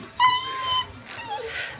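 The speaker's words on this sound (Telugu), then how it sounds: "కుక్కల్ని పిలుస్తున్నావు" Dogs whimper and yip in short, high, whining bursts, fairly close, with a second cluster of higher cries toward the end and no talk over them.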